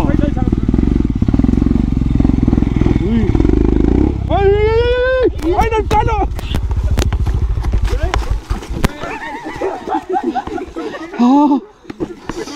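A motorbike is ridden at The Heights, Chikmagalur. Its loud, close engine rumbles steadily for several seconds, then people talk and call out while the ride continues under their voices.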